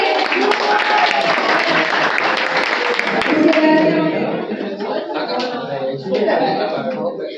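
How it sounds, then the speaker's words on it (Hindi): An audience at a Hindi poetry gathering in Kanpur gives a poet a loud, sustained round of applause, with dense clapping that slowly thins out as a voice speaks over it. "जोरदार तालियां सर के लिए"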